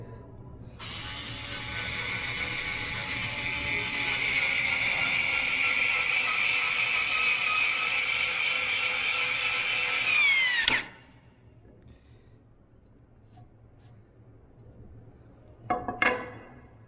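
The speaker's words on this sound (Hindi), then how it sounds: "हम नई जगह इसको ड्रिल करेंगे और स्क्रू इन करेंगे।" A cordless drill drives a self-drilling screw into fresh material, whirring steadily and close for about ten seconds before stopping abruptly, then a brief second burst near the end.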